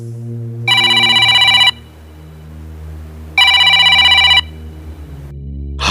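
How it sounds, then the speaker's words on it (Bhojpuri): A telephone rings twice in loud electronic bursts, each about a second long, with a pause between them over low background music. "अरे पता नहीं कितना फोन आता रहता है।"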